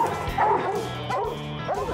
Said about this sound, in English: Bears, the dogs are chopping right now.